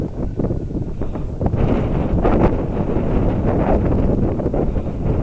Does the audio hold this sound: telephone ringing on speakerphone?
no